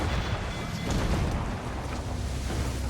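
Naval cannon fire in the Assassin's Creed IV Black Flag video game comes as a loud continuous roar of booming volleys and battle noise at sea, dense and unbroken throughout.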